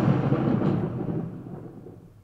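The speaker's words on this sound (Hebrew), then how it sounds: "לפעמים ניתן להוסיף על זה סאונד נוסף כמו של רעם במקרה הזה" A layered thunder sound effect from sound design gives a single deep rumbling roll that starts loud and fades away over about two seconds.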